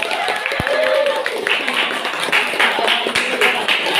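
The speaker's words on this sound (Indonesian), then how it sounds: "Tepuk tangan dulu." A classroom of students clapping for the winners in a school lesson, scattered overlapping claps with a few sharp knocks, mixed with voices talking.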